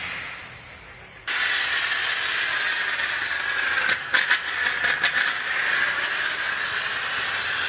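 Car wash foaming brush sprayer hissing steadily, starting abruptly and continuing with a few brief clattering bursts midway.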